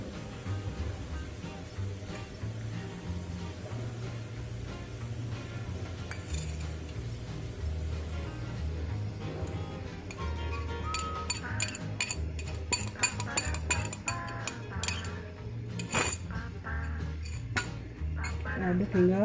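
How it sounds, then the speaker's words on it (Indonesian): Yeast and egg get stirred into bread dough in a bowl, with steady soft scraping and then a run of rapid clinks of a utensil against the bowl, growing busier toward the end, while someone talks throughout. "Kita aduk ya."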